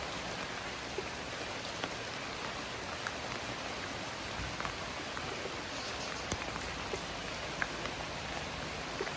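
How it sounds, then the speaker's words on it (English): Rain falling on a jacket hood, a dense steady patter of drops close to the ear with occasional sharper taps, fairly quiet and continuous, no voices. "Right now I can hear the rain falling on the hood of my jacket."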